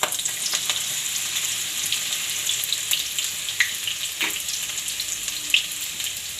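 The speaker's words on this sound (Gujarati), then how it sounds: "તો પહેલાં આપણે જીરું નાખશું અને આપણે આ લીલું લસણ નાખી દઈશું" Cumin seeds and green garlic sizzle steadily in hot oil, a bright, crackling fry with scattered pops, close and continuous throughout with no talking.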